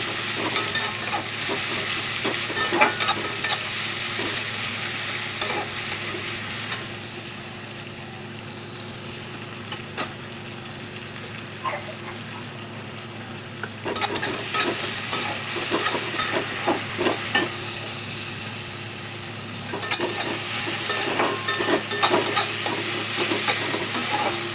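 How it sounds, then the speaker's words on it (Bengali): Ginger-garlic paste stirred into fried onions in a pan for a potato egg curry: a steady sizzle with repeated bursts of spatula scraping and stirring, fairly close, no talking. "পেঁয়াজটা ভালো করে ভাজা হয়ে গেলে আদা রসুন বাটা দিয়ে একটু নেড়ে নেব।"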